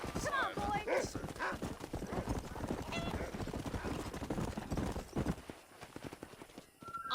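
Horses gallop in the video game Red Dead Redemption, with rapid, loud hoofbeats and a whinny early on, while voices talk over the ride.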